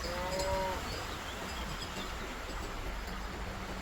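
Cows by a roadside river give a couple of short moos near the start, fairly close, then fade into steady outdoor ambience with a low wind-like rumble.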